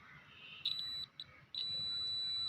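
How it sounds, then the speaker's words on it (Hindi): A shorted-probe continuity check on a digital multimeter gives a thin, high electronic beep in short bursts and then one steady tone, faint over low room hiss. "ये देखिए, आपको एक कंटिन्यूटी की आवाज़ आएगी"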